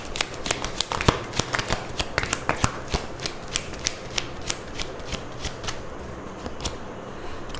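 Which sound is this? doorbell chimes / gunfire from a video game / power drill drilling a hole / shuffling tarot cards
shuffling tarot cards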